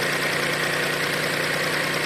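A Volkswagen Polo with a 1-litre MPI petrol engine idles close by, an even, steady mechanical hum with a fine rhythmic ticking that holds unchanged throughout, with no voices.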